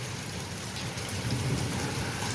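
Steady rain pours down in a village during a storm, with thunder rumbling low beneath the wash of falling water throughout, no voices present.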